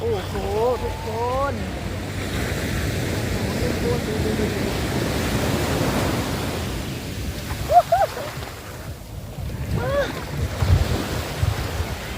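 Sea waves rolling onto a beach of indigo-blue water under darkening rain clouds, a continuous surging wash with wind buffeting the microphone and someone speaking over it.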